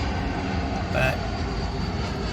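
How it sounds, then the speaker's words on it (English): A plane flies overhead near an airport, a steady broad rumble filling the short outdoor moment at moderate distance, with no voices over it. "plane's just going over now"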